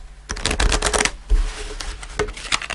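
Tarot cards shuffled by hand, a near, crisp run of rapid riffling bursts with short pauses between them, loud and alone with no talking.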